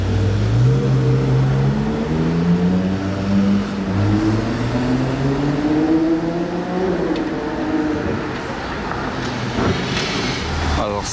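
Ferrari 812 Competizione Aperta supercar driving past with its engine revving, loud rising and falling engine tones up close, with someone talking over it.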